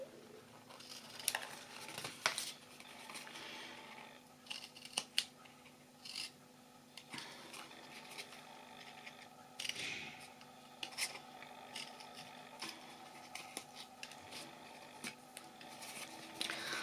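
Scissors snip through a gift-box card along a score line, giving repeated crisp cuts and rasping slides at close range with brief pauses between strokes, and no voice.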